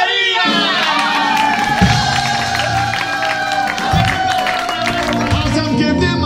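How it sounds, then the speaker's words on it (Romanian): A concert crowd in Romania claps, cheers and whoops while a singer is introduced, the noisy applause mixed with music and a voice over the top. "Doamne și domnilor, aplauze pentru..."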